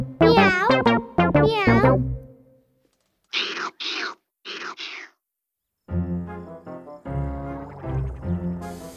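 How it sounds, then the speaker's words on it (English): A cartoon cat from the Pocoyo children's show gives a few short, breathy meows in the middle, set between a voice speaking at the start and bright music at the end. "It's a cat!"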